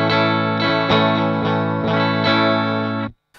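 A distorted electric guitar plays with its humbucker coil-split, giving a single-coil style tone: a sustained chord re-strummed about five times in a steady rhythm, loud and close, ending abruptly before a brief click.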